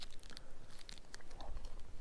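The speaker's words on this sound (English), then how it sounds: "sorry if you can hear my chewing" A person chewing a granola bar close to the microphone outdoors at a river while fishing, with soft crunchy bites and clicks scattered over about two seconds against faint background noise.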